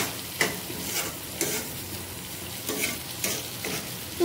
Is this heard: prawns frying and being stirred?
yes